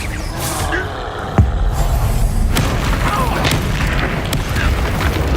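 A Bombarda spell explosion in Hogwarts Legacy during a goblin battle lands as a deep, loud boom with a sharp onset, followed by a rumbling noisy tail of combat sounds.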